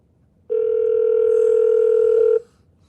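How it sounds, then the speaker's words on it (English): A phone call placed through an Alexa device rings out as one steady electronic tone lasting about two seconds, loud and close, starting and stopping abruptly. "Calling Sweetie PD's mobile."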